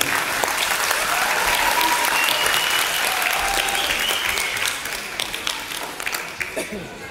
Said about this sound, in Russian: Поддержим бойцов бурными овациями.